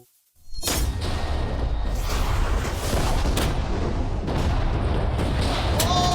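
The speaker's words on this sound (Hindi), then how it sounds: "ये एक बहुत ही बड़ा धमाका होने वाला है" Huge TNT blast: a sustained roaring rumble with crackling bursts that fills the whole stretch after a brief quiet start, loud and close, with no voices over it.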